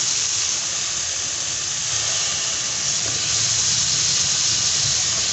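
Peeled, chopped ridge gourd tipped into a pan of cooked-down tomatoes, giving a loud, steady sizzling hiss that holds for several seconds with no talking.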